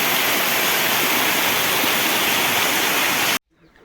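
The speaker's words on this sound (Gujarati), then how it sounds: "આજના દિવસે ધોધમાર વરસાદ વરસી રહ્યો છે" A heavy downpour lashes down in a loud, dense, roaring wash of falling water, steady and close, then cuts off abruptly near the end leaving faint quiet.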